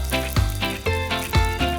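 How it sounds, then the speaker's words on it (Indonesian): Quail eggs wrapped in tofu skin fry in moderately hot oil, a loud close sizzle that bursts in three or four sharp pulses as pieces move in the pan. "goreng dengan minyak yang tidak terlalu panas"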